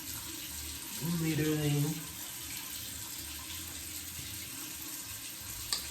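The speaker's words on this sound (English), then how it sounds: "I'm just about to wash my face" Tap water running into a sink while washing a face, a steady hissing stream throughout, with someone briefly speaking over it near the start and a small knock near the end.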